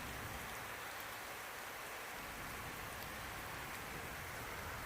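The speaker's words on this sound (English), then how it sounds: "I bring forth the rain." Steady rain falling on a surface, a dense even hiss with scattered drops, continuous and fairly soft.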